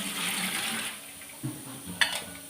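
Water pours and splashes into a plate set beside a pressure cooker of cooked rice in a home kitchen. The steady wash of pouring runs throughout at moderate volume, with one brief clink near the end.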